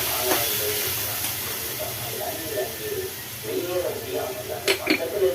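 Tomatoes, a few dried red chilies, coriander seeds and a sprig of curry leaves frying in a pan for a tomato thogaiyal, giving a continuous steady sizzle with occasional sharp clinks of a utensil near the end.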